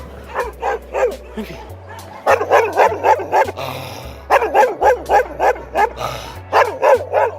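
Several dogs bark in repeated bursts along a rural road near a mountain hike in Serbia, loud and close, with a brief spoken word in between.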